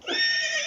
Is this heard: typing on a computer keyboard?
no